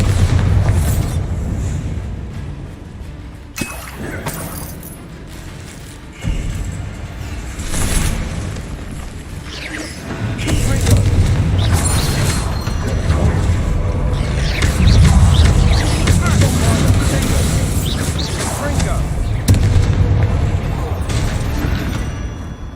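Bombarda explosion spell cast in Hogwarts Legacy, heavy booming blasts rolling in several loud bursts over a rumbling game soundscape of combat effects.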